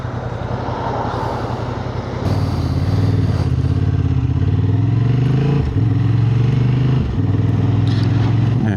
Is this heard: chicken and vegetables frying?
no